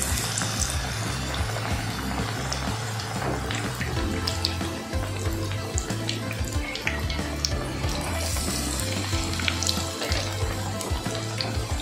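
Beguni, battered eggplant fritters, fry in hot oil with a loud, dense, continuous bubbling sizzle heard up close throughout, with no talk.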